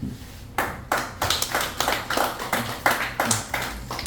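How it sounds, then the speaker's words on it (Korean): A small group of people claps in a steady, rhythmic pattern, with distinct separate claps that begin after a brief pause and repeat evenly at moderate volume. "박수 한번"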